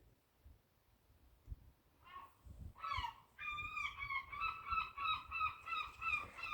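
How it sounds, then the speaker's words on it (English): Seagulls call repeatedly in a back garden, loud honking squawks that start hesitantly then settle into a steady, rhythmic run of cries, quiet background beforehand. "Listen to the seagulls."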